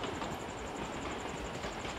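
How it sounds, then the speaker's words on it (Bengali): A train rolls past in the BGMI battle royale game, a steady, loud rumble of rail noise with rattling wagons that fills the whole moment without any talk. "ট্রেন আসতে দে।"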